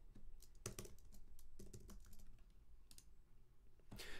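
Quiet typing of a Google search on a computer keyboard, irregular clicks and key taps scattered across the clip with small pauses, close and alone.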